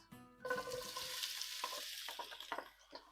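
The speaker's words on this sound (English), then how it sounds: "we'll heat up the oil again, around 2 to 3 tablespoons. And we will add our 3 medium chopped onions." Three chopped medium onions hit two to three tablespoons of hot oil in a pan, giving a quiet hiss and crackle of frying with a few soft stirring clatters.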